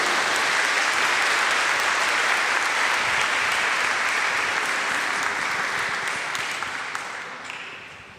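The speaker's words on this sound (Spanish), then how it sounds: "Denle un fuerte aplauso al Señor." A large church congregation applauds loudly and continuously during a sermon, the clapping dense and sustained before tapering off at the very end.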